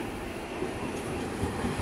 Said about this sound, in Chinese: 接着是第一次体验搭电车。